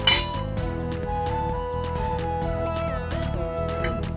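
A spoon mixing raw potato sticks in a bowl, with rapid, repeated clinks and scrapes against the bowl's side in a steady stirring rhythm, close and continuous, with no talk.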